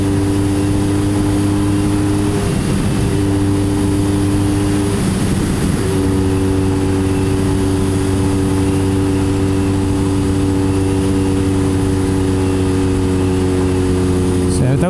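A Jawa Ogar 350/12 motorcycle engine runs steadily on a test ride, holding a constant droning hum with layered harmonics, with a brief dip and change in pitch, then carrying on; someone talks over it.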